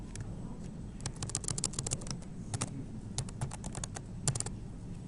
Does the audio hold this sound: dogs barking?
no